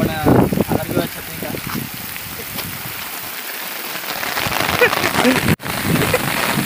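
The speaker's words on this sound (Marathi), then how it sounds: "फार जोरात पाऊस आलेला आहे." Heavy monsoon rain pours steadily at a hilltop viewpoint in Jawhar, a dense close hiss of drops on surfaces lasting throughout, with people talking briefly over it.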